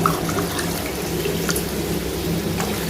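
Water pours steadily from a tumbler into a pot while making ragi and samba wheat semolina kichadi, a continuous close rushing splash with no pauses and no voices.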